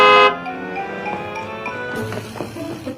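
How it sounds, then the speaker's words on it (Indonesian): A car horn honks loudly and repeatedly outside a house, with sustained blasts at the start followed by shorter toots and some faint clatter. "Xiaoran sengaja klakson-klakson sampai pekerja rumah pun pada keluar lihat apa yang terjadi."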